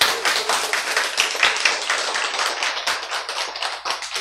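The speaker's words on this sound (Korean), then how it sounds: "박수." Audience applause breaks out in a lecture hall on cancer treatment, a steady dense wash of many hands clapping close by for about four seconds with no voices over it.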